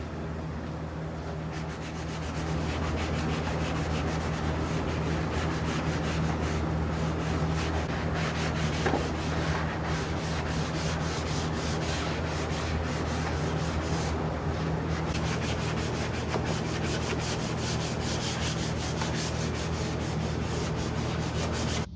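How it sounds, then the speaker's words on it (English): Steady, continuous rubbing of abrasive against wood, hand sanding a vintage end table with a 320-grit sponge in long repeated strokes, close and fairly loud over a low constant hum. "For the area down here that I can't get the sander in, I'm going to use a sanding sponge."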